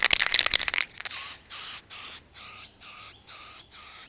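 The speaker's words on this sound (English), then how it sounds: "just remove your branding and spray paint it." A quick rattling shake of a spray paint can, followed by about seven short hissing spray bursts onto a small 3D-printed plastic part, with brief gaps between each.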